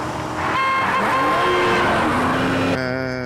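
A rear-drive Jaguar drifts through a film chase scene, its engine revving hard and rising in pitch with tyres squealing, loud and close, then a second engine tone cuts in at the end.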